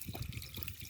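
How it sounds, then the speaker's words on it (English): Water poured into the suction section of a water pump to prime it, with a hand held over the outlet pipe; a steady, close liquid trickle and splash runs throughout the short stretch. "we're now going to pour water into that"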